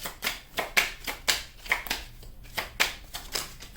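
Tarot cards shuffled by hand, a run of close, crisp riffles and slaps repeating in a steady rhythm about every half second, with no voice over them.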